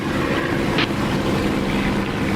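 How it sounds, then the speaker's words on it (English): An aircraft engine in the DCS flight simulator game drones steadily and loudly as a continuous broadband roar, with no pauses. "Probably I've got my engine too loud now and I can't hear you properly."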